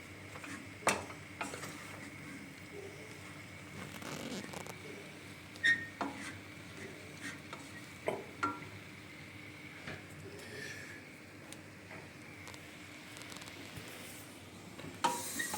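Bread fries in butter in a pan for pisi, a traditional Hasankeyf dish, with a soft steady sizzle and occasional light utensil taps and clinks, quiet and close, with no talking.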